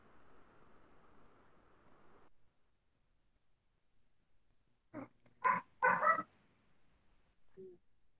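A dog barks a few short, close bursts after a stretch of near silence, preceded by faint background hiss.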